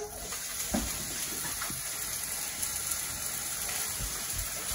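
Cut nopales tumble into a hot clay cazuela with a broad, steady sizzling wash and a few soft thumps, close and moderately loud, with no talk.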